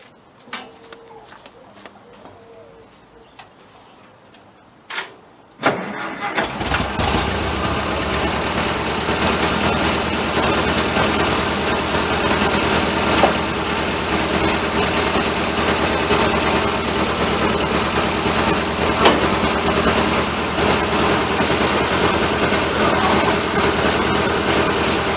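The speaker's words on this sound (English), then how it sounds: "let's fire up the tractor, the 1952 Ferguson," A 1952 Ferguson tractor engine cranks and catches after a few quiet clicks, then settles into a loud, steady, rough idle with a knocking throb that continues to the end.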